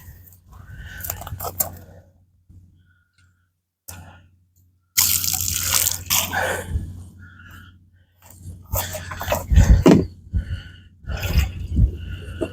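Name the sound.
pouring pond dye along the pond edges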